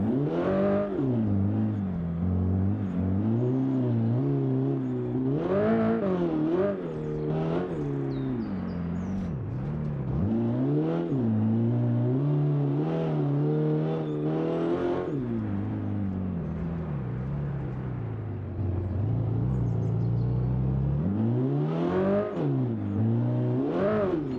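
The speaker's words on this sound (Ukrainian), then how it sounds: "Не люблю я оці голосні машини, але наче їде непогано." A loud rally car engine in the video game BeamNG.drive roars continuously, revving up and down through gear changes with rasping tone, close and dominant throughout.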